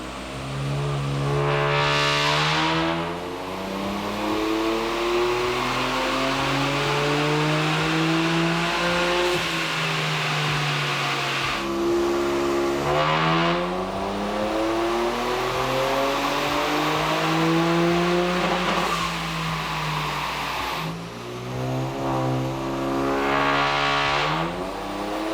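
Toyota GR Yaris fitted with a new exhaust revs hard on a dyno, engine note climbing through repeated long pulls with brief gear-change dips, loud and close throughout.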